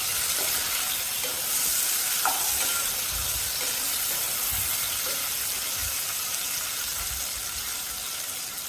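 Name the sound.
tomatoes sautéing in a pan for sardine curry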